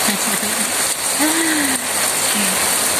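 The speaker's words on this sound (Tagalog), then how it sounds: "Ang maulan na panahon dito sa amin." Heavy rain pours down steadily and loudly outdoors, a dense, continuous hiss filling the whole clip. Faint voices or brief tonal sounds surface briefly underneath.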